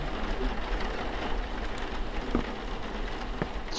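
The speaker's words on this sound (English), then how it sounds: "It's raining." Steady rain pours in a video game, a dense, even hiss of falling drops that fills the scene alone, with a few faint clicks and knocks poking through.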